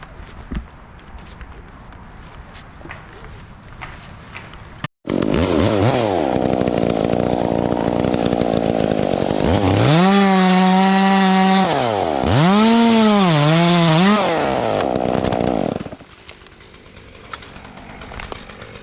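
A chainsaw bucks white oak branches into firewood, loud and close. It roars steadily for about ten seconds, its pitch dipping and recovering as it bites into the wood, and then cuts off abruptly to quiet.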